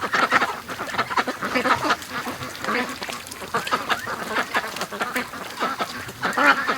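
A flock of free-range ducks quack continuously as they head out in the morning, a dense overlapping chatter of calls nearby, steady and fairly loud.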